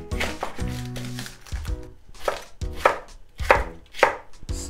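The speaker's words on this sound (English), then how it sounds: "I'm just gonna take the leaf part, and I kind of like to cut it diagonally like this" A knife chops scallion leaves diagonally on a cutting board for shabu shabu, about a dozen crisp close knocks in an uneven, quick rhythm.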